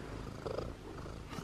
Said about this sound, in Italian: Sono completamente attaccata dai gatti.